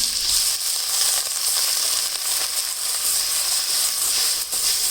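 A loud, steady sizzle and hiss rises close up as water goes into frying onion, tomato and spice masala in a pan. The sound is continuous and dense, with no voices.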